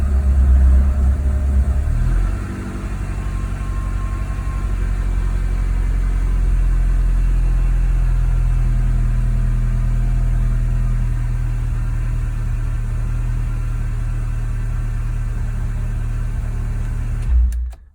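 A VW Golf GTI MK2 16v engine, nearly 200,000 miles on it, idles steadily and close by after starting. A brief louder burst comes first, then a smooth, even low rumble holds until it cuts off at the end.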